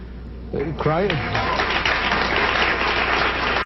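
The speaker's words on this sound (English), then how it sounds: "That's 1979 on the Phil Donahue Show. The people are applauding." Studio audience on the 1979 Phil Donahue Show bursting into loud, sustained applause that swells after a brief voice at the start and continues steadily before cutting off abruptly.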